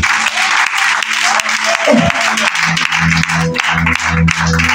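A church congregation applauds through a Sunday worship service, steady dense clapping filling the space while music or voices sustain underneath.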